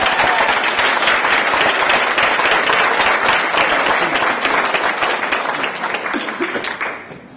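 An audience applauds after a Holocaust survivor's talk, dense sustained clapping from a crowd at full strength for several seconds before tapering off near the end.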